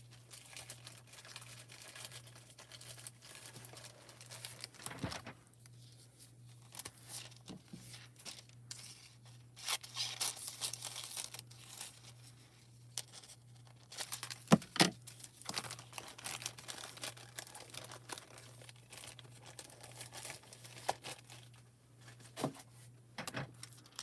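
Thin hot foil sheets for a Hero Arts hot foil plate project are handled close up, giving bursts of crinkling and rustling with scattered taps over a steady low hum.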